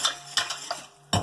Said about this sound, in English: So what we're going to do is we're going to whisk this together.